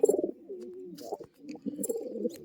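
Girribaz pigeons from Murshidabad coo softly and repeatedly at close range in a pigeon sale enclosure, low throaty rolling calls in uneven bursts with short pauses.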